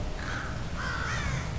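A crow caws twice inside the stealth video game Thief, two drawn-out harsh calls over a steady low ambient drone.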